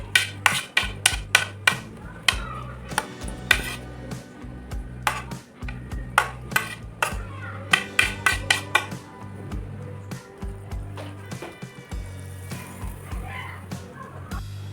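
A spice mixture is stirred in a pan with a metal spoon, giving repeated clinks and scrapes against the pan at an irregular pace, close and sharp, with no talking.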